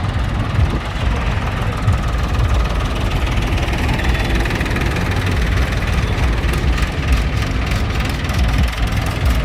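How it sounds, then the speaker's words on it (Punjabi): Tractor engines idle in a large tractor-trolley convoy setting off from Jitwal village in Moga district toward Delhi, a close, continuous low diesel rumble with a slight uneven throb and no talk over it. "ਜ਼ਿਲ੍ਹਾ ਮੋਗਾ ਦੇ ਪਿੰਡ ਜੀਤਵਾਲ ਤੋਂ ਵੱਡੀ ਗਿਣਤੀ ਟਰੈਕਟਰ ਟਰਾਲੀਆਂ ਦਾ ਕਾਫਲਾ ਦਿੱਲੀ ਨੂੰ ਰਵਾਨਾ ਹੁੰਦਾ ਹੋਇਆ"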